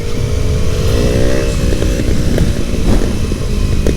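A motorcycle exhaust on a 2024 Triumph Daytona 660 inline three roars steadily nearby, its pitch climbing briefly as the engine revs, with a continuous throaty drone throughout.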